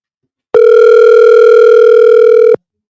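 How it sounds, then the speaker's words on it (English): A single loud, steady telephone ringback tone sounds while a call is being placed, holding for about two seconds before cutting off cleanly, with silence on either side. "Can y'all hear that ringing?"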